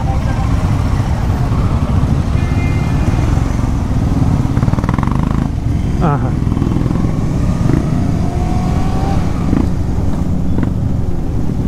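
Motorcycles and other vehicles roll past on an Independence Day group ride of over 250 riders, a loud continuous engine drone with passing revs and horn toots, while someone speaks briefly over it.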